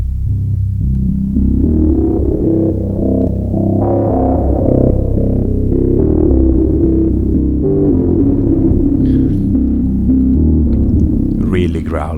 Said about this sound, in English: Really growly, and you have this sort of pulsing yet evolving